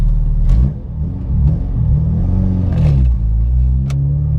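A supercharged 2011 Honda Civic Si pulls away as its six-puck clutch engages, the engine rumbling low and steady with a brief rise in revs, heard close up from inside the car with no talking.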